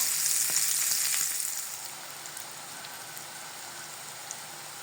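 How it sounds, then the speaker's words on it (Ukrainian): Pork fat sizzles and crackles in a hot pan, a bright steady hiss that is louder at first, then settles into a quieter frying patter. "Ну і обов'язково підсмажуємо салко на зажарку."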